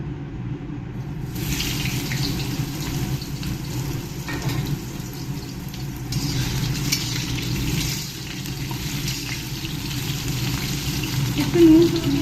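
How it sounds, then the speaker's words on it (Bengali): Potatoes frying in hot mustard oil in a heated kadai, a loud continuous sizzle and crackle starting just after a brief quiet opening and running steadily to the end. "তেল গরম হয়ে গেছে, এবার আমি ভেজে নেব আলুগুলো"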